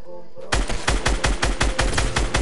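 A burst of rapid automatic gunfire rattles out in a video game shootout. About a dozen loud, evenly spaced shots come right after a brief quiet moment.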